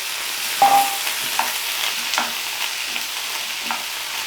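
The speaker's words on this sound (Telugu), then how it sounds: "లైట్గా ఈ పోపులో బాగా కలిసిపోయేదాకా తిప్పి అంటే కలియబెట్టండి" Shredded cabbage tossed into a hot spiced oil tempering with curry leaves, stirred in a pan with a steady soft sizzle and a few brief scraping strokes, close and alone.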